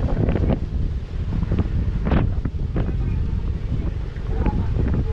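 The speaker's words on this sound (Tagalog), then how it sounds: "Grabe lakas ng hangin dito" Strong wind buffets the microphone in a steady, loud roar on a boat trip off Subic, Zambales, with a few faint voices and boat-like rumbles underneath.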